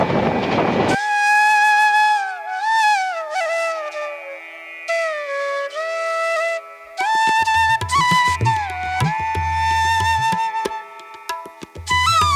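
The Dhaka to Chattogram mail train from Kamalapur station sounds loud, sustained horn blasts over the rolling clatter of its wheels, with a brief lull before the horn returns.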